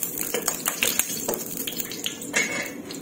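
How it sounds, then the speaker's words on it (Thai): Oil crackles and spatters in a wok while Hokkien noodles are stir-fried, with no one speaking. Scattered sharp pops and sizzling bursts repeat irregularly, close and fairly loud, mixed with faint clinks of a utensil. "กระทะบ่แห้งค่ะก็เลยกระเด็นค่ะ"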